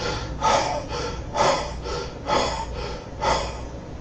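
A voice imitates a raspy throat with four rhythmic, harsh breathy rasps, each a rough snort-like exhale about a second apart, loud and close with no talking.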